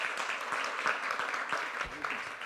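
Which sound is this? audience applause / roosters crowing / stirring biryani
audience applause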